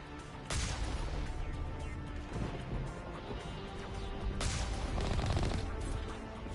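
Artillery fire in the sci-fi shooter Mass Effect: heavy booming blasts and crashing impacts, with one burst near the start and a denser volley later, set against a continuous rumbling battlefield din.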